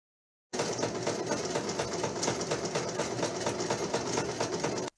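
Sewing machine running steadily, a fast rhythmic mechanical clatter at close range from start to finish, with no voices.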